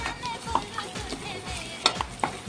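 Ginger, garlic and coconut paste sizzles and fries in a pan for misal, with a few sharp scraping clinks of a spoon stirring it, fairly close and alone.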